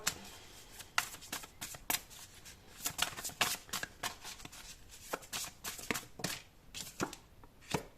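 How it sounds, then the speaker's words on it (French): Tarot cards shuffled and drawn from a deck, a run of quick papery flicks and slaps at close range, some clustered and some spaced apart, with no talk. "On va prendre 3 cartes avec ce joli tarot."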